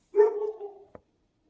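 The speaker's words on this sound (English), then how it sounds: "I think the dog is done barking now" A single dog bark sounds outdoors, a drawn-out, whining call that fades over about a second and ends with a short sharp yip, fairly close and alone with no talk.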